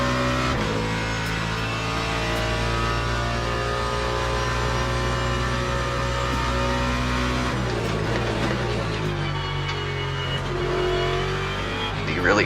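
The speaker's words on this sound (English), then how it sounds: "Keep it in third. And accelerate up here" A race car in the Le Mans Ultimate video game powers out of a corner at Monza, its engine note climbing steadily through the revs, then shifting and rising again, loud and close and heard alone.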